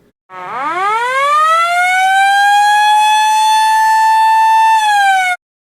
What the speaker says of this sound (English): Prior to blasting, a siren will be sounded.